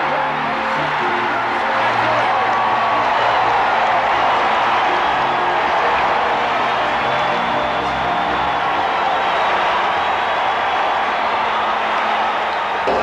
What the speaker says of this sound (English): A standing room only crowd in Cincinnati on its feet.